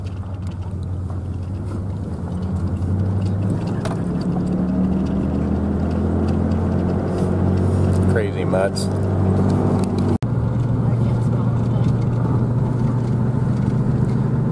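Pickup truck driving up a road with a caged raccoon in the back, its engine a steady loud rumble throughout, with someone talking briefly over it.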